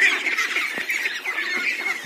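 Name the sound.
ducklings calling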